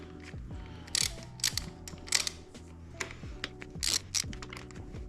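Wrench work on a new Ventus V1+ bicycle, tightening the pinch bolts: repeated close metallic ratcheting clicks and taps in uneven bursts over a steady low mechanical hum, with no talking.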